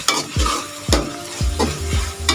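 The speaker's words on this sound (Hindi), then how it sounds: "इसके अंदर अब हम जो है ना अपनी फ्राई की हुई भिंडी बीच में ऐड कर लेंगे।" Fried okra being added and stirred into a hot pan, four or five distinct scraping strokes of a spoon against the pan at a steady rhythm over a continuous sizzle, close and fairly loud.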